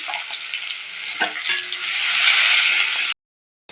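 Chili and cumin tempering with onion and garlic frying in hot oil, a loud continuous sizzle with a few stirring scrapes, swelling louder before stopping abruptly.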